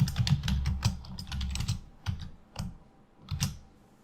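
Text is typed on a computer keyboard, a close run of quick clacking keystrokes in short bursts with brief gaps, moderately loud and without any talking.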